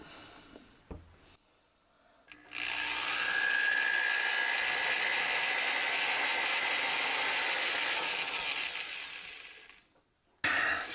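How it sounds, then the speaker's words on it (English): A massive power drill fitted with a large spade bit boring through material in a workshop, a loud continuous high whine held for about eight seconds before winding down, with no talking. "This drill is massive, and it's probably not the right drill for the job"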